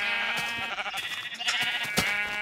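Several nasal, wavering sheep bleats from Minecraft, loud and close, repeating in quick succession over a short stretch with no talking.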